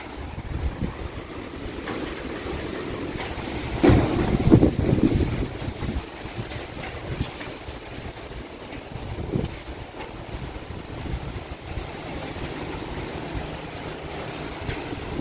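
Gusty wind blowing outdoors under an overcast sky as rain approaches, a steady rushing roar with buffeting microphone rumble that swells into a stronger gust around the middle, with no voices.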